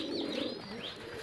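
Close, soft cooing from a Giribaz high-flyer pigeon, one brief low throaty call with a slight rolling quality and no talking.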